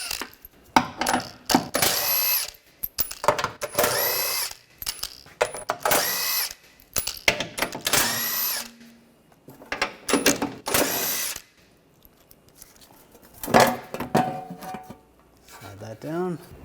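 A power tool with a 16mm socket spins bolts off a plate on a 2009-2013 BMW 328i xDrive 3.0L during front CV axle work: loud, repeated whirring bursts of a second or two, with clinks and pauses between them.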